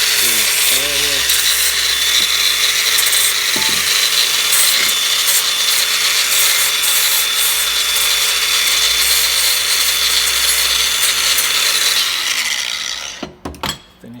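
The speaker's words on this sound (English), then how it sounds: "a nice emery wheel on it that works really nice on metal" Metal is polished against an emery wheel, a loud continuous grinding rasp with faint mechanical clicks beneath, held steady for most of the stretch before the wheel cuts off and fades near the end.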